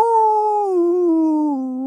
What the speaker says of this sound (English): he'd hear the howl of a beagle deep in the woods